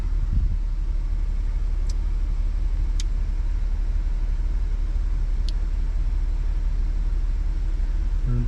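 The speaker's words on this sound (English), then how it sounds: "So I'm gonna let it run till it gets all the way warm" A 2025 Audi RS5's engine idles steadily while warming up, a low, even rumble running throughout with a few faint high ticks above it and no talking.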